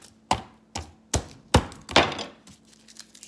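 Rough knife chopping of ingredients for slow-cooker birria, five distinct, fairly loud thunks at a steady, unhurried pace, each a sharp board strike with a short tail.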